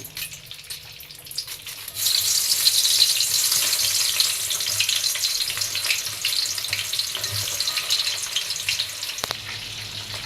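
Chopped onion fries in hot oil in a pot. A loud, steady sizzle builds after a quiet start and runs unbroken, with faint scraping as the onion is stirred.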